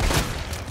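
A single gunshot from a weapon in the survival horror game Resident Evil 2 Remake, a short low boom at the start that fades into a rumbling tail, with no voices.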